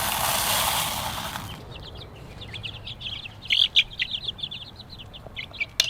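Baby chicks in their new coop chirp in quick, high, repeated peeps close by, rising in a busy cluster after a short burst of broadband noise at the start.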